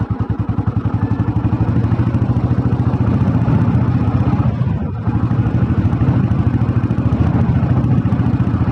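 A restored vintage Royal Enfield Bullet petrol motorcycle idles steadily with its thumping single-cylinder beat, loud and close, broken by a brief dip midway before the even chugging resumes.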